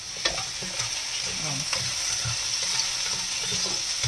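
Milkfish browning in hot oil in a pan gives a steady, close sizzle and crackle, with soft scrapes from stirring underneath and no talking.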